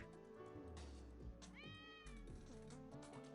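A cat monster in the online game Ragnarok Online lets out a couple of synthetic, tonal meows over steady game music, fairly quiet overall.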